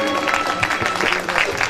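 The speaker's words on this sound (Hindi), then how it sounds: "थोड़ी सी ताली इनके लिए भी हो जाए।" An audience claps for a singer at a stage performance, a short burst of dense applause heard close and loud with no speech over it.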